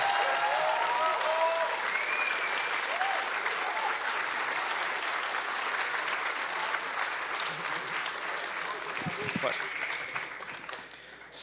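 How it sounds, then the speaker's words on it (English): A conference crowd at the NorthSec 2025 closing ceremony gives a long round of applause to the organizing team: dense, steady clapping lasting over ten seconds with some cheering voices early on, slowly tapering at the close. "a big round of applause to them"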